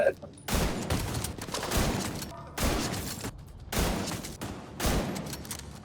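Gunfire in the video game The Division 2 comes in loud, rapid bursts roughly every second, with short gaps between volleys.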